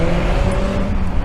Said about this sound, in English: Sorry about any road traffic noise that we've been getting during these interactions